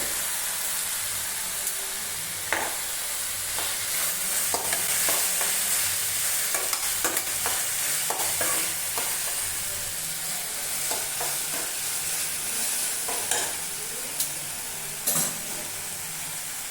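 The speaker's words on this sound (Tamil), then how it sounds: "ஸோ இதோட பச்சை வாசம் போகிற வரைக்கும் லைட்டாக வதக்கிட்டு" A pan of mashed vegetables sautéing while cooking cauliflower dosa with Kumbakonam kadappa, giving a constant sizzling hiss broken by intermittent spatula scrapes and knocks nearby.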